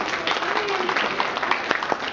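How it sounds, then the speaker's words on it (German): An audience at a charity dance crew event gives a brief, fairly steady round of applause, clapping continuing throughout with some crowd noise. "Nochmal einen großen Applaus für die Jungs."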